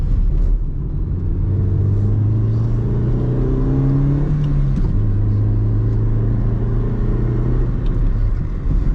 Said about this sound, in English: Go into second here, get a little more RPMs, tight 90.